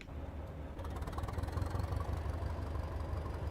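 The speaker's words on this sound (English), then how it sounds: "I think there is a similarity between the 20 and the Thumper engine" A diesel locomotive engine in the Train Simulator Classic game idles with a steady, deep, throbbing rumble that pulses evenly throughout, loud and close, with no talking.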